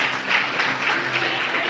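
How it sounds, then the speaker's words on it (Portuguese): A church congregation applauds together, a dense, loud burst of clapping that holds steady throughout the short moment. "Aplauda Jesus se for para Ele."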